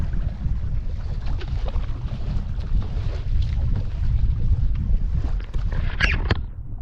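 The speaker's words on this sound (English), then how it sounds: "A little windy." Steady wind buffets the microphone during kayak paddling on Georgian Bay near The Massasauga Provincial Park, a broad low roar running throughout, with a brief brighter gust or splash near the end.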